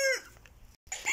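Hens in a henhouse, two of them brooding, give a loud descending cluck up front, then quieter murmuring, a brief gap, and another burst of clucking.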